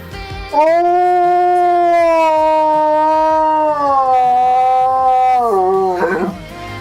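A dog howls in one long, sustained, wavering note that holds for several seconds before breaking into a rising whine, loud and close by, with no one speaking over it.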